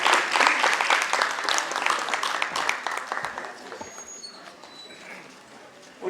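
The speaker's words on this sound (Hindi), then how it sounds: "तो इनके लिए जोरदार तालियां आंटी हमारी" A crowd at a stage play claps for the maker of a costume, loud lively clapping at first that thins and fades over six seconds into scattered claps and quiet room sound.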